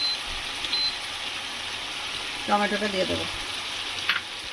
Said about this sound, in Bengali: এবারে এর মধ্যে আমি টমেটোটা দিয়ে দেবো